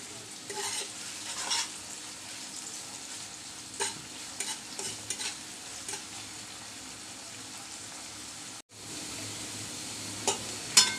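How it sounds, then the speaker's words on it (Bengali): Garlic and onion fry in a pan with salt added, a steady sizzle under occasional scraping and stirring clinks from a spatula, with a brief cut near the end and no talking. "একটু তাড়াতাড়ি রসুন আর পেঁয়াজটা ভাজা হয়ে যাবে"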